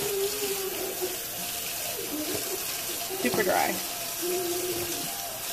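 Tap water runs steadily into a kitchen sink during dishwashing, a soft continuous wash with faint clatter, while a person talks briefly over it.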